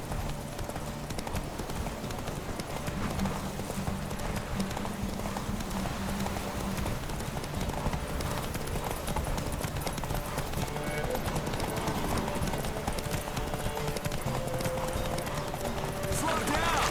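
Hooves of a horse pound in a steady galloping clip-clop rhythm in The Witcher 3, continuous and fairly close, with a faint whinny and ambient game sound underneath.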